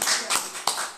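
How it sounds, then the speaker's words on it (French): Church congregation applauding the Lord during a French-language service, a few loud, close claps in an irregular rhythm within about one second, no talk over them. "Nous applaudissons le Seigneur bien fort."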